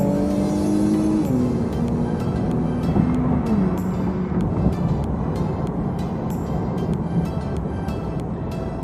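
An Infiniti Q60 Red Sport 400 with a muffler delete accelerates at full throttle, its loud exhaust roar climbing through the revs close by, with a brief dip as it shifts, then pulling hard again.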